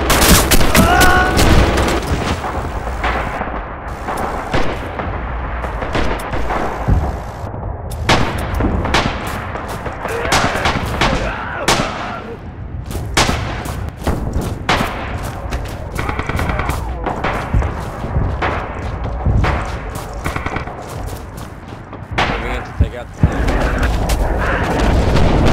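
Dense artillery and gunfire in the World War II shooter Red Orchestra 2, with a barrage of loud booms and sharp cracks landing close together and nonstop, and thuds and explosions overlapping throughout.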